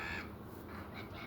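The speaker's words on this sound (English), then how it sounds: "What a sweet little parrot." Harsh cartoon squawk from a pet parrot in a Peppa Pig episode, a single scratchy call lasting about a second, heard alone without any talk.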